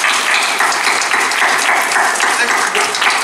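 Audience at a Doctor Who Q&A panel at a sci-fi convention in Wales breaks into loud, continuous applause, a dense crackle of many hands filling the room.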